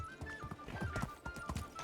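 Horse hooves gallop in the video game Medieval Dynasty, a rapid, steady clip-clop rhythm heard up close at moderate volume, with a faint tone running beneath.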